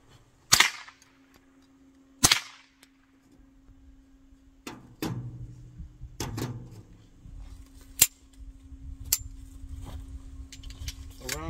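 An M&P 380 Auto pistol fired at long range, several sharp cracks spaced a second or more apart, with a steady hum and scattered handling noise between shots.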